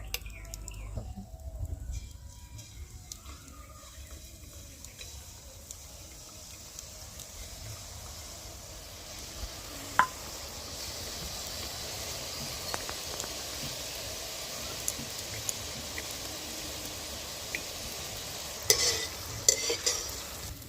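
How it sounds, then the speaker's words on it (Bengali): Gram-flour bundiya batter, tinted red, deep frying in hot oil with a steady soft sizzle and crackle, a few sharper clicks near the end, fairly quiet and without voices. "ওই ব্যাটারটা দিয়ে এবার বুন্দিয়া ভেজে নেব"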